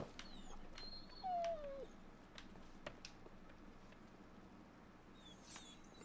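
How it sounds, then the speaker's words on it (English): Starving dogs in an alleyway in Sea of Thieves give a single faint whimpering whine, with scattered soft yips and clicks around it in a quiet game scene. "Those dogs are starving."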